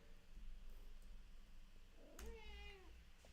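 A house cat meows once in a drawn-out, rising and falling call near the end, fairly close, over a quiet low room hum with faint indoor background noise and no talking.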